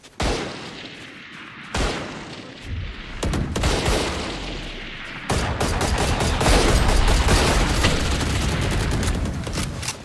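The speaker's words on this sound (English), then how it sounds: "I'm shooting way too frantically." Gunfire in the game Valorant comes in frantic bursts of rapid shots, loud and close, broken by short gaps and then a longer sustained volley near the end.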